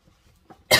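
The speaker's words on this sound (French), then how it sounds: "J'ai toussé dans le micro." A single sharp cough bursts right into the microphone at the very end, loud and close after near silence with faint breathing.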